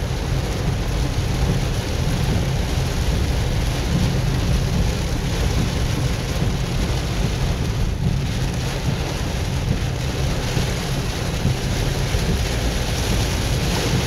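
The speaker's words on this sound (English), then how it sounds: "Now the wind's picking up too." Strong wind in a tropical storm with lightning roars as a constant broadband rush mixed with heavy rain and low rumbling, loud and unbroken for the whole stretch with no voices.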